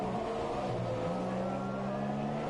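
Onboard engine note of a Toro Rosso Formula 1 car in a racing video game during qualifying practice, with purple tyres; a steady high whine holds one pitch, drops a step, then climbs again, loud and continuous with no talk.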